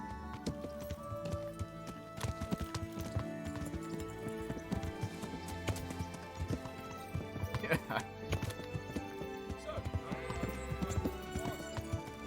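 Rapid clip-clop of horse hooves galloping, with an occasional whinny, mixed with game music and sound effects in Kingdom Come: Deliverance; a voice talks over it.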